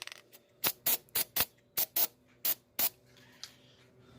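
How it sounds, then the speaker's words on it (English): Short bursts of spray lubricant applied inside the door of a 1987 Chevy Celebrity Eurosport, about nine quick hissing squirts in an uneven rhythm, close and loud with no talking. "spray it some more, and just so it has a good thick film, a layer of stuff on there"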